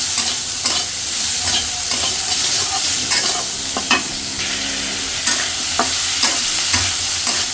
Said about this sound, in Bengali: পেস্ট একটু হালকা ভাজি করবো